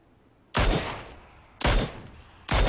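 Three sharp, loud bursts of gunfire in PUBG Battlegrounds ring out close at uneven intervals, each with a short fading tail, with no talk between them.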